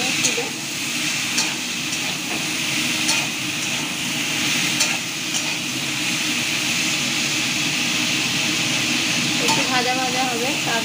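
Vegetables tipped into a pan with ginger and garlic and fried, giving a steady hiss of frying with intermittent stirring clatters, and a voice speaking near the end.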